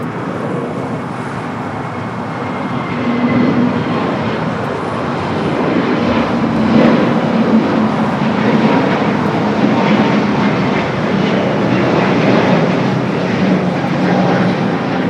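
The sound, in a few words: Volaris Airbus A320neo taking off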